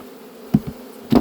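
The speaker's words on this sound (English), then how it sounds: "taking these bees out," Honey bees buzzing around a hive as frames are lifted out, a steady insect drone with two louder close bursts as bees pass near, no talking.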